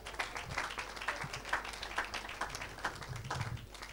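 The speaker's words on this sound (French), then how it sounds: "Acclame pour Jésus." Church service audience clapping and cheering for Jesus, a short burst of dense, rhythmic applause at moderate volume, with a preacher's voice faintly mixed in.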